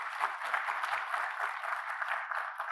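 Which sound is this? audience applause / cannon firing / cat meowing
audience applause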